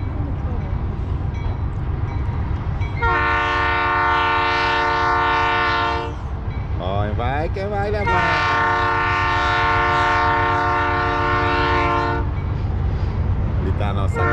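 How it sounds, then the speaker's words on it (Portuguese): A large freight train passes close by in Alto Taquari, Mato Grosso, its horn blowing two long chords over a steady rolling rumble while a person speaks briefly. "Esse é o trem de ferro mesmo"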